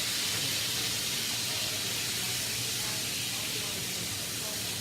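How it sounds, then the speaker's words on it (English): Wine poured into a hot pan to deglaze it, giving a steady, loud broadband sizzle and hiss that holds evenly throughout without a break. "just to get some liquid in the pan"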